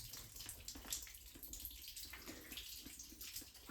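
Water spraying out onto rock inside an old mine, a constant hissing splash, faint and distant-sounding with some echo, running without interruption.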